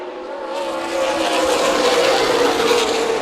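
Race cars roar back up to speed on a restart at Colorado National Speedway, a dense, loud wall of engines building and holding steady as the pack accelerates past.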